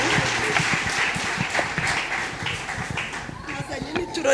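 Church congregation clapping steadily through the whole stretch, a dense patter of hand claps with singing and voices running underneath.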